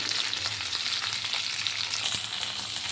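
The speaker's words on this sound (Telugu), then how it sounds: "బెండకాయ ముక్కల్ని వేసుకుని ఫ్రై చేసుకుందాం" Okra pieces fry in hot oil in a pan, giving a continuous close hiss of sizzling with faint stirring, steady throughout and free of speech.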